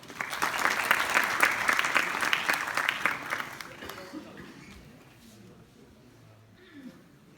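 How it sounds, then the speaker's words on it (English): An audience at a talk event breaks into loud, sustained applause that gradually fades to scattered claps and room noise. "So please give them a big round of applause."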